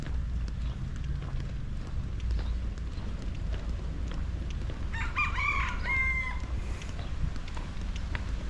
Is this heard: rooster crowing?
yes